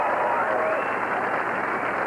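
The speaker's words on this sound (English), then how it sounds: "I want you to hear a live crowd cheer" A live crowd of about a thousand cheers and applauds at a bowling tournament, a loud, dense and steady roar of clapping and voices throughout.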